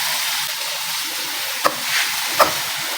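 Cut tomatoes frying in about 150 grams of hot oil, a steady loud hiss and sizzle throughout with two brief sharper crackles near the end, no voices.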